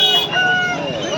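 A white rooster at a Sunday poultry market in Pileru lets out one short, loud, close crow.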